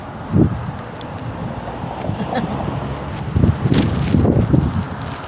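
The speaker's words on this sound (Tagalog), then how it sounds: "Lakas po ng hangin." Gusty wind buffets the microphone in low rumbling bursts, swelling and fading, with a few faint voices underneath.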